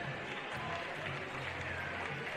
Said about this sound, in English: Crowd are into this game right now